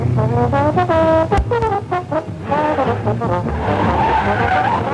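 Race cars, including a Jaguar and a Morris Minor, tackle the bends at a vintage motor race revival, tires squealing in repeated shrill skids over steady loud engine roar throughout.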